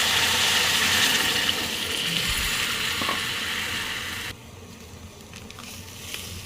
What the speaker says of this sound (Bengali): এবারে ভিতরে আমি পানি দিয়ে দেবো